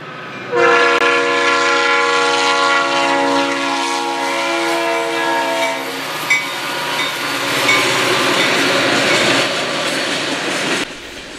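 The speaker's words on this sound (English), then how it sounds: "we catch another NS freight train" A loud, sustained multi-tone horn blares for several seconds, then gives way to the roar and rattling clatter of a heavy Norfolk Southern freight train rolling past close by at a Georgesville Road crossing near Columbus.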